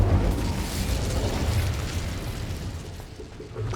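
A rumbling, roaring burst of flame from the Incendio fire spell in Hogwarts Legacy, a continuous low whoosh and crackle that holds steady and slowly fades, with no talk.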